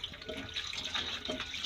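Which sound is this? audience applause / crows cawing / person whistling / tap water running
tap water running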